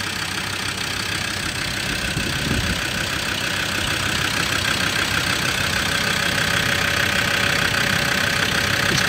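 A 2007 Land Rover Defender 110 TD5 double cab diesel settles into a steady idle, a continuous even rumble with a faint clattery knock running unbroken throughout, close and with no one talking.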